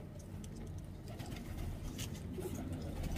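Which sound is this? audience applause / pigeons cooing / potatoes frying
pigeons cooing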